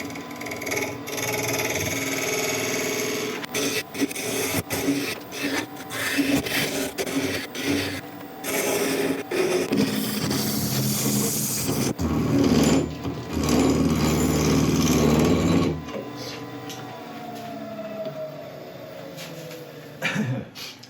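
A wood lathe trues up the base of a giant redwood cone, the gouge scraping and rubbing in uneven bursts over the spinning motor, with brief pauses in between.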